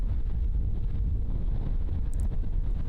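Steady gusting wind buffets the microphone on an outdoor disc golf course during a women's pro tournament round, a constant low rumble with no talk.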